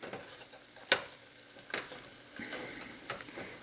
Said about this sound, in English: the last step after blending all the ingredients together is to cook the mixture with some pork lard or some avocado oil